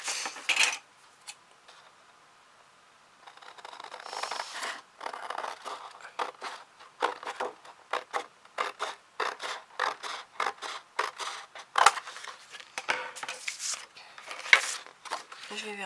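Scissors snip through covering material for a tissue box in a close, steady run of sharp cuts, with a brief quiet stretch near the start before the cutting picks up.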